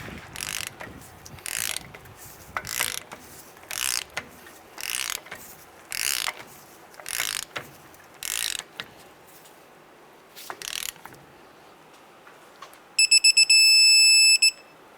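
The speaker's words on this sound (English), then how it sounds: "you're going to take this nut here and you're going to tighten it down to seat your bearings" A ratchet tightens the front wheel bearing nut on a 1992-1996 Ford F-150. It gives repeated bursts of fast clicking with short pauses between them, close and clear, and ends in a brief steady electronic tone.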